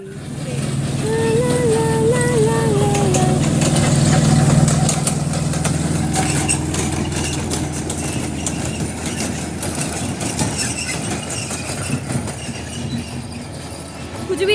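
A boat engine runs at a park in Cooch Behar, a steady, close, droning hum that carries on throughout, with singing over it for the first few seconds.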